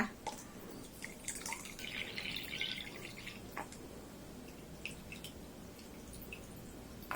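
Water is poured into a 100 ml laboratory measuring cylinder, a quiet trickle and a few drips heard close up in a still room with no voices.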